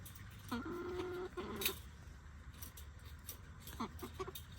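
Silkie chickens inside a coop give several drawn-out clucking calls, close and moderately loud, followed by softer intermittent clucks against quiet background noise.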